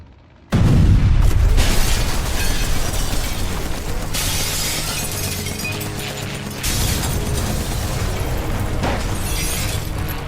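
Fuel tanks bursting into flames as a radio-drama effect: a sudden heavy boom with shattering debris, then a loud sustained roar of fire with a second surge partway through, no voices.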